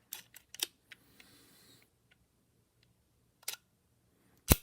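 A Leica IIIf rangefinder with an intermittent slow-speed fault fires its shutter in close, crisp mechanical clicks, a quick cluster at first, then isolated releases with long quiet gaps and a sharp final snap.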